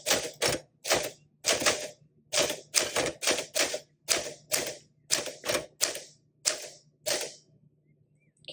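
Vintage manual typewriter, a 1961 Sterling, typed one-handed: about fifteen loud, sharp keystrokes arrive in an uneven rhythm, each a crisp clack, with a faint steady hum underneath and a short quiet tail at the end.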